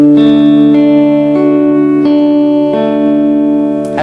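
Plucked electric guitar notes on the second and third strings, a short sequence of clear sustained tones ringing out with effects and reverb, loud and alone with no talking.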